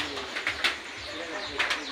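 A white pigeon coos softly a few times nearby, with faint background noise between the calls.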